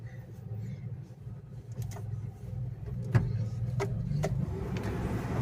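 A Renault Triber idles with its air conditioning running, giving a faint, steady low hum broken by a few soft clicks and taps nearby.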